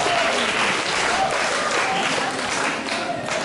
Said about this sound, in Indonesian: Jadi kita beri aplaus dulu untuk kedua pemateri kita.